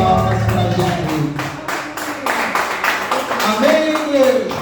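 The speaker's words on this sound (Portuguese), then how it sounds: "uma salva de palmas para Jesus" Church congregation clapping for Jesus during a Sunday thanksgiving service, a sustained burst of many hands applauding together with voices mixed in throughout.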